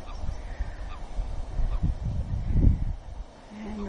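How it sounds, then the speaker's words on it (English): Low honking calls of ducks on the water rise and fall over a rumbling outdoor background, a few quacking bursts clustered near the middle. "And hear the ducks"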